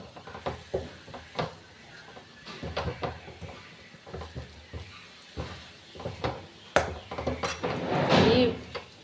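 A spoon stirs mulberry leaf thoran in a metal pan, giving repeated scraping clinks and taps in an uneven rhythm, close and moderately loud, with a louder scraping burst near the end.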